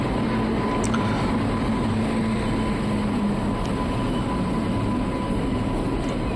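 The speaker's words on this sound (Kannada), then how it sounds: "ನಮ್ಮ ಟ್ರೈನ್ ಬಂತು ನೋಡಿ" Hampi Express pulling into KSR Bengaluru railway station, a steady broad rumble of the arriving train with a faint tonal hum running throughout, close and continuous without pause.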